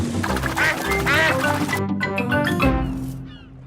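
Cartoon duck from Peppa Pig quacking in a quick series of nasal calls, close and loud, over a bed of background music.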